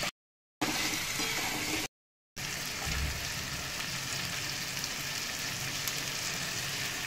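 Chicken coated in ground spices sautés in a pan, giving a loud, dense, steady sizzle that runs on after two brief dropouts near the start.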